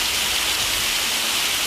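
The Curug Cikoneng waterfall on Gunung Guntur roars as a steady, dense hiss of falling water, loud and close, with no talking.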